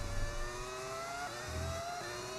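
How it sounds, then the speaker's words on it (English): An F1 car in a racing video game, its engine modded to sound like an old V10, holds a steady, high, whining drone with a slight pitch dip and rise, heard alone and fairly close. "I've got a mod that makes it sound like a V10 from back in the day"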